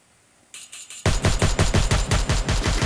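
Rapid automatic gunfire in a shooter video game, starting with a lighter burst then breaking into a loud, fast, steady stream of close shots with no talking.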